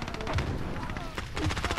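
Rapid automatic gunfire in a shooter video game, sharp close bursts rattling in a steady rhythm, with a brief pause in the middle before firing resumes.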